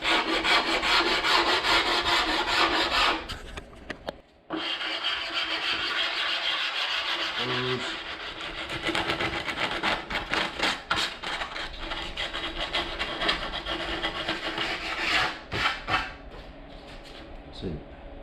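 Hand sanding the edges of an MDO plywood sign with 80-grit sandpaper: steady, close scratchy rubbing strokes run almost continuously, with a brief pause early on and a few sharper scrapes near the end.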